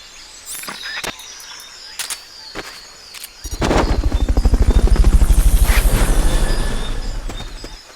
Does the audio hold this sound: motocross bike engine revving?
no